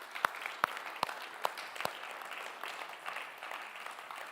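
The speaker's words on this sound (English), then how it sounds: "can we have one last round of applause" A final round of applause from an evening audience at a Story of Freedom event. A few sharp, close claps come at a steady beat over softer crowd clapping, which then thins and fades out.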